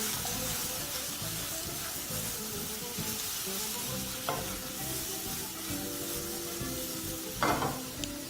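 Chicken pieces and pineapple fry together in a pan with a steady close sizzle, while stirring scrapes through it and two brief louder clatters come near the end.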